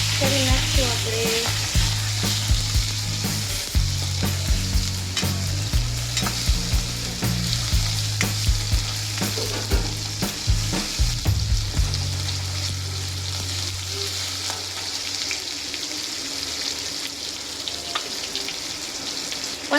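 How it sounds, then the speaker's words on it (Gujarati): Tomatoes with chickpeas sautéing in a pan, a loud continuous sizzle broken by repeated scraping stirs and spoon clinks, close by, with no talking. "ટમેટા સોફ્ટ થાય ત્યાં સુધી આપણે આને સાંતળી લેવું."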